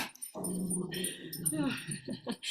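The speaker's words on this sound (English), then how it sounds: "I'm babysitting my friend's dog at the moment" A dog being babysat indoors whimpers and yips in short, whiny bursts, close by and mixed with a person hushing and talking to it.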